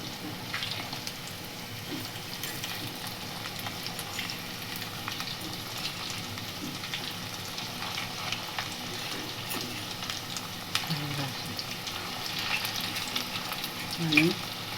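Sooji potato tikki shallow-fry in a pan, a soft, steady sizzle with occasional spoon scrapes as the patties are turned; quiet and continuous, no speech.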